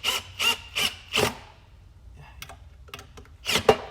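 A strong drill drives a threaded insert in four quick, rough grinding bursts, then scattered ticks and clicks, then one more short burst near the end, close and fairly quiet.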